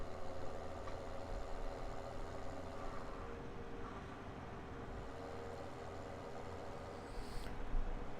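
A tractor engine in a farming video game idles as a steady low rumble, fairly quiet and continuous, with no speech over it.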